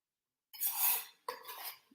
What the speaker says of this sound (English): To that, I'm going to add a little bit of avocado oil. And I'm going to drop my onion in.